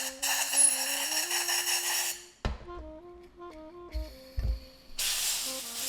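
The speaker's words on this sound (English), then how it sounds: "hit it with the air while it's spinning to try and knock out some of that chalk and dirt" Bursts of compressed air blown into a spinning RXSG EVO jump rope handle to clear chalk and dirt hiss loudly in long sprays, broken by short gaps where a faint whirring tone rises and falls.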